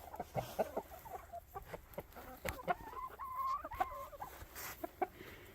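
Chickens, several with fuzzy feathered heads, cluck steadily outdoors on snow while pecking at scattered grain and weeds, with a busy run of close, moderately loud clucks and chattering calls throughout.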